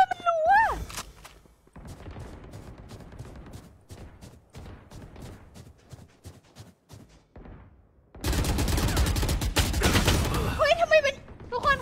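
Video game gunfire, with a string of sparse, quieter shots followed by a sustained, loud, rapid volley of automatic fire near the end, while a voice speaks at the start and finish.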